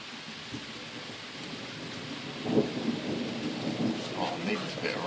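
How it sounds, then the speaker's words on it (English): A thunderstorm: steady rain hisses on surfaces while low rumbles of thunder roll in the middle and toward the end, fairly faint and distant overall. "I need this bit of rain, I'll tell you."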